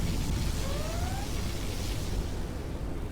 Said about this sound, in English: Now the particle cannon is always going to aim for the command center, even if it no longer exists.